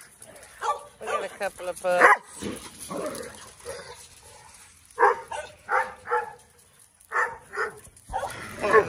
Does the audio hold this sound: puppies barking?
yes